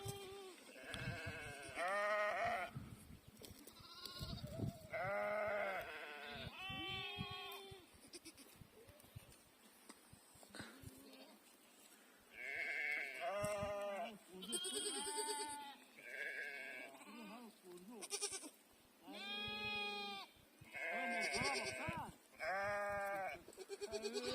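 Many sheep bleat one after another, overlapping calls from a flock at varying distances, with quieter gaps between bursts.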